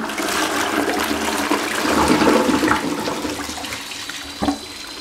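An Armitage Shanks Sandringham Universal toilet with a Fluidmaster flush valve flushes close by, a loud rushing surge of water that swells and then tapers into a steady refill trickle.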